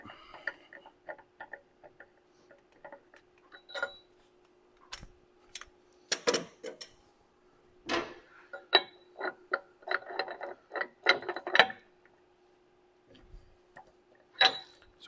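A ratchet clicks in short bursts as a nut is loosened on a Dana 50 or Dana 60 front axle of an OBS Ford. The clicking is close, with scattered metallic taps between bursts over a faint steady hum.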